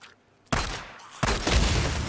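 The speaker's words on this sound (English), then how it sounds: "Let me shoot this barrel here. It's always a nice little explosion here." A shot barrel explodes in Days Gone, with a sharp burst and a brief crackling boom, then a second louder blast that rolls on with debris rumble after a quiet lead-in.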